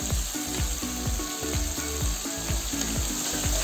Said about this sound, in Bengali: মশলাটা একটু ভালো করে কষাই নেব, টমেটোটা সিদ্ধ হয়ে যাবে ভালো করে।